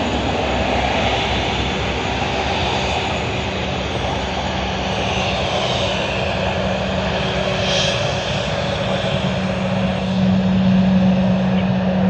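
Jet engine roar from a Boeing 777 airliner at Sydney Airport, a broad steady rumble that holds for the whole stretch with no voices over it, swelling slightly toward the end.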